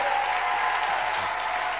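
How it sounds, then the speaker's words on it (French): A congregation applauding during a French-language prayer service: dense, steady clapping that fills the whole moment, loud and close, with no voices standing out. "Acclamons, acclamons, acclamons, acclamons."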